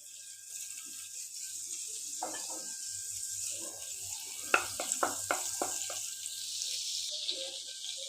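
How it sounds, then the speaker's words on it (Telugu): Butter melting in a kadai, a soft, faint hiss with a short cluster of light clinks and taps partway through. "ఇప్పుడు అదే కడాయి పెట్టుకొని దీంట్లో కొంచెం బటర్ అప్లై చేసుకోండి."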